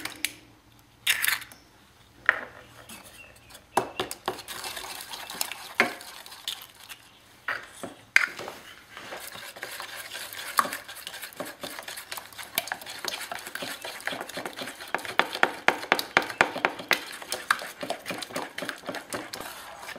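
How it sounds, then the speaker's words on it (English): Eggs are beaten one at a time into a warm melted Mars bar mixture in a bowl. A utensil clicks and scrapes against the bowl in quick, close taps that start sparse, then turn dense and rhythmic, with no voices. "So now I'm just going to add the eggs one at a time and beat in between"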